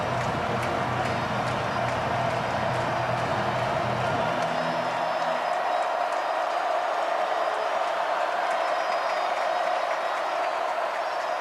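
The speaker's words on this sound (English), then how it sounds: "And this crowd back on its feet." A college football stadium crowd at South Carolina vs. Clemson in 2024 roars and cheers loudly for about five seconds, then the crowd noise drops away to a thinner, distant hiss.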